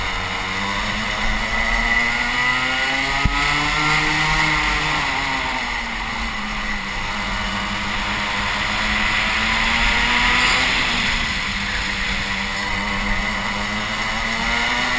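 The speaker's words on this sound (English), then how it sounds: "Impressive defensive driving from Trundley." Race cars on track in the DMAX racing championship, an enduro round, with a steady loud engine drone whose pitch rises and falls as the cars accelerate and brake, heard continuously without talk.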